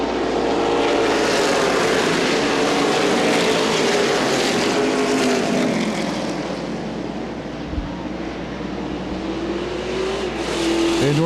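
ARCA/CRA Super Series race cars roar as they accelerate together at a green flag restart on an oval track, a loud, rising engine blare from the pack sweeping past.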